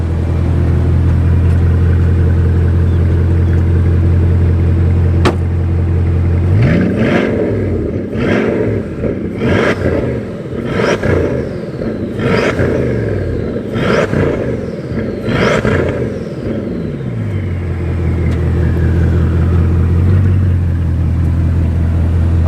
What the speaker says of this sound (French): laisse passer derrière la voiture, Charles, pour leur faire écouter le son de l'échappement.